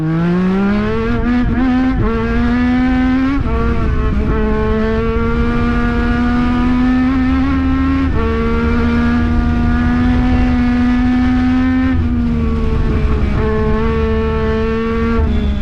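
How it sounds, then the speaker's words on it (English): A Legend race car engine warms up on a track, droning loudly and close with rising and falling revs, repeated shifts in pitch and a steady mechanical roar. "Let's warm up the tires and see if the engine is okay"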